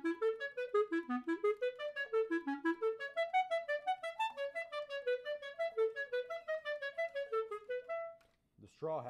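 A wind instrument plays a rapid tongue-stopped staccato line, each note clipped short in an even pulse, close and clear, in a Rose etude; a brief breath or noise follows at the end.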